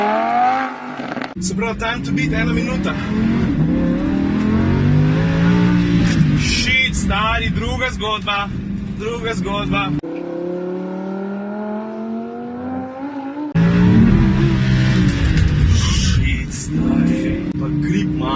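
A Lamborghini accelerating hard on a race track in Corsa mode, its engine rising loudly through the gears as rising whine sweeps, with an excited driver talking over it throughout.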